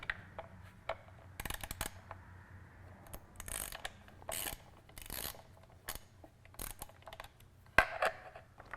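Torx screws come out of the stock air cleaner cover on a Harley: soft ratcheting clicks and small metallic clinks at an irregular pace, close but faint, with no voices.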